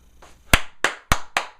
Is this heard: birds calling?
no